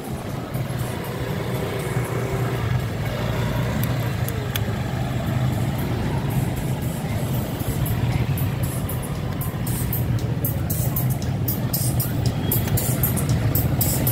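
Road traffic on MacArthur Highway near Pampanga, a steady low rumble of car and truck engines heard from inside a slow-moving vehicle, with people talking over it.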